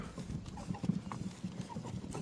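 Soft, irregular hoofbeats of horses pulling a cart clop along on damp, soft ground, faint and steady, with a low rumbling background.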